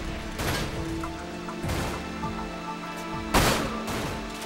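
Gunfire in the video game Dirge of Cerberus: Final Fantasy VII, with bursts of loud shots and sharp impacts recurring through a steady game music and ambience bed, the heaviest burst near the end.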